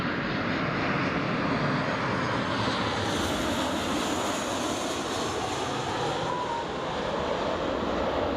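Jet airliner taxiing at Newcastle International Airport, a steady broadband engine roar and whine held at moderate distance throughout, with no talk over it.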